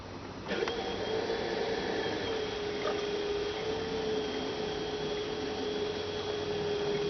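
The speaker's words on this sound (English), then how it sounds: "And I'll turn on the pump again." An electric pump starts up while air is bled from a Toyota Prius engine coolant system, settling into a steady, close motor hum with a constant whine that runs without a break and with no talking.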